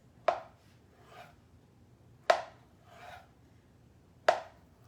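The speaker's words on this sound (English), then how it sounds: "Then the flat side goes down and you just cut very thin slices." A knife slices thin pieces from a less ripe avocado, giving three sharp cuts at even intervals, each trailed by a softer scraping pass, close and clear with no talk.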